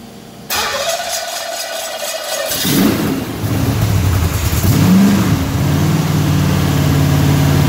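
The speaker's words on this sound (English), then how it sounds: "I'll show you what the how this thing revs" A Pontiac's engine cranks and catches, then revs up in rising surges with fast throttle response before settling into a loud, rough running roar close by.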